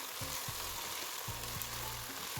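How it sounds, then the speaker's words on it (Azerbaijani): Beans with carrot and onion stirred in a frying pan, a dense steady sizzle with a few low scraping strokes of the utensil. "Lobyanın üzərinə sarkök və qara vişot əlavə edib qarışdırıram."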